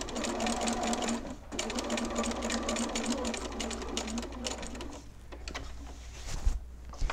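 A sewing machine runs steadily, stitching a bag seam for handles and straps, with a close mechanical whir and a rapid needle clatter. It pauses briefly near the start and slows to a few uneven bursts toward the end.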